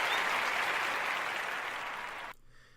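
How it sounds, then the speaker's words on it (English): A studio crowd applauds loudly and steadily, the clapping dense and sustained before cutting off sharply near the end. "We're giving you a round of applause"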